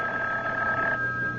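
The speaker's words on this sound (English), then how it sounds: "when I wasn't even thinking about the phone, it rang." A telephone rings as a sound effect in a radio drama, one steady electronic trill that holds throughout at a moderate level with no voices.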